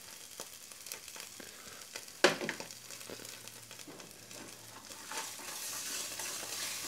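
A spoon stirs tomato paste into a vegan butternut squash stuffing in a hot pan, with steady scraping and a low sizzle, a sharp knock partway through, then the sizzle swelling a little toward the end.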